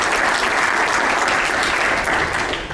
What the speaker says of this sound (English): let's give Stan a great round of applause